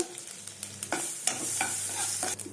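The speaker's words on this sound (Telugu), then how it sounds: "ఆవాలు వేస్తున్నా అండి, జీలకర్ర, 2 పచ్చిమిరపకాయలు, కొద్దిగా ఇంగువ" Mustard seeds, cumin, green chillies and asafoetida frying in butter and oil, quick crackling pops and sputters with spoon scrapes over a low steady sizzle, close and fairly quiet, no voice.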